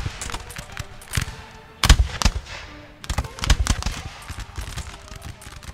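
Musket volleys crackle across a forested battlefield in Napoleon Total War, with repeated ragged bursts of gunfire, some close and sharp, others scattered and farther off, overlapping into a continuous rattle.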